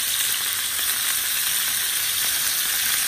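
Mahi mahi fillets fry in butter in a pan, giving a loud, steady, dense sizzle that holds evenly throughout with no talk over it.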